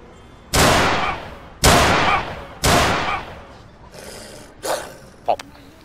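Police officers in Emergency 4's London mod fire their weapons: three loud, sharp shots in quick, even succession, followed by a few fainter, shorter bangs.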